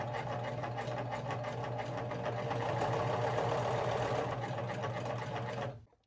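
A sewing machine runs steadily while stitching a curved seam on cycling bib shorts, giving a close, rapid, even mechanical chatter that lasts several seconds before stopping abruptly.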